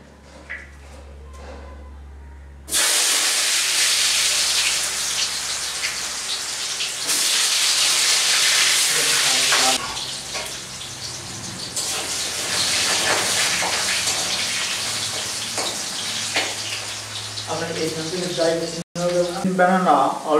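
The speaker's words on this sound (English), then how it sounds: "Now I am frying green banana." Green banana pieces frying in hot oil give a loud, steady sizzle and crackle that starts abruptly and runs throughout, with a person talking over it near the end.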